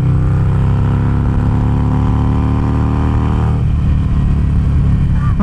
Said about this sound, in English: It's a little silly to rev out a motorcycle like this